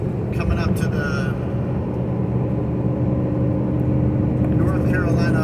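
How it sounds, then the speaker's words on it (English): A car cruises along I-40 through the Smoky Mountains near the North Carolina–Tennessee border, with a steady, dense road and engine rumble throughout and a voice talking over it. "I'm here on I-40 driving through the Smoky Mountains"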